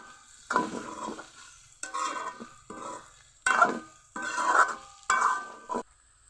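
Cauliflower stems and other vegetables fry in a pan while being stirred in five loud scraping, sizzling bursts separated by brief pauses, with no voices.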